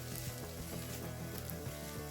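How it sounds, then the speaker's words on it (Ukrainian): Steady, close sizzling of sausages and onion frying in a hot pan, with continuous crackling and popping and no voices. "І сюди ж потім додаємо нарізані соломкою сосиски. Смажимо до золотистого кольору."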